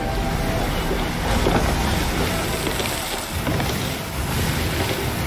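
A ship sailing through a heavy storm in Sea of Thieves, a dense, loud, constant roar of wind and crashing waves with surging water filling the whole moment.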